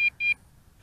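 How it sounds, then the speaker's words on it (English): Two short electronic beeps in quick succession from a Snaptain SP700 drone controller while the drone flies its return-to-home, sharp and close, then near quiet. "And it is continuing to beep."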